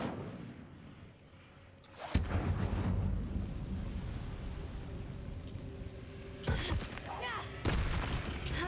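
Incendio fire spell cast in Hogwarts Legacy, sharp booming bursts with crackling rumble, recurring several times amid combat sounds and a voice shouting spell names.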